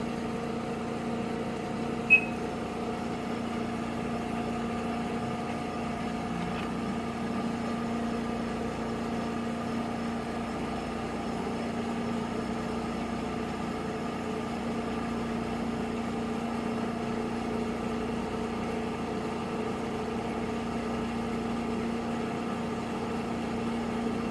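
A Cee 100CB benchtop spin coater runs with a steady mechanical hum and layered tonal whine, accompanied by a faint repeating pulse, holding a constant level throughout with no voices.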